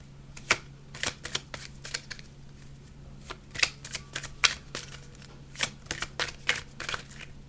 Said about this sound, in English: Let's try to grab one more card and see what happens.